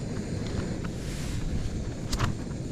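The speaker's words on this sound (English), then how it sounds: "It's a bit breezy, but it doesn't look too bad, to be fair." Steady wind buffets the microphone at a wild camp on the Swirl How mountain summit in the Lake District, making a constant low rushing roar with brief gusty flutters. No one speaks.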